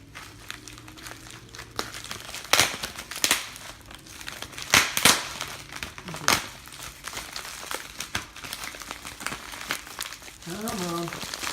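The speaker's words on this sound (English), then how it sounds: "So, here we go, the package within the package. I cut into this." Plastic and paper packaging crinkles and rustles as a box is cut open during an unboxing, with irregular sharp crackles and crunches close by and someone talking intermittently.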